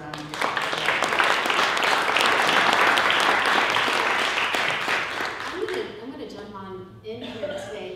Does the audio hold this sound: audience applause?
yes